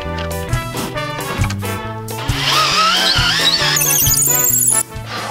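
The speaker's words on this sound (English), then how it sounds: "Brushless Makita cordless, went through that without much problem at all." A brushless Makita cordless drill with an auger bit bores into the keel timber of a 20-ton historic yacht, giving a loud rising whine for a few seconds in the middle, with music playing underneath.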